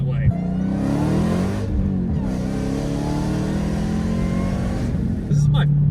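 A Dodge Hellcat's engine roars loudly from inside the cabin, rising in pitch through steady acceleration, with a shift-like dip around the middle and a speaking voice over the top.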